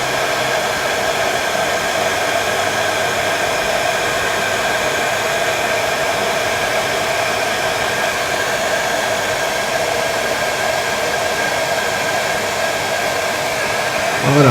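A hair dryer blows continuously and loudly to dry paint on a Zvezda plastic model kit of a German leFH-18 howitzer, a steady unbroken whooshing drone held close throughout with no talking.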